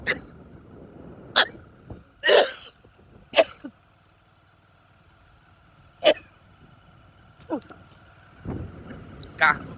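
A person coughs in sharp, separate bursts, roughly seven over ten seconds, close to the microphone against a quiet background with a faint low rumble.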